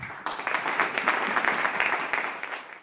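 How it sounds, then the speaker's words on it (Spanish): An audience at a fintech and entrepreneurship presentation in Guatemala claps in sustained applause, dense and steady, swelling briefly then fading out at the end. "lo recibimos con un fuerte aplauso"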